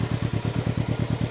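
Can-Am Ryker three-wheeled motorcycle idling on its factory exhaust, a steady loping engine pulse with rapid even chugs, close and fairly loud, no talking.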